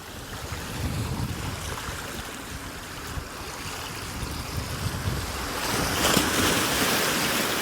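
Sea waves wash and break against the rocks at Filey Brigg, a continuous rushing surf close by with wind buffeting the microphone, swelling louder toward the end.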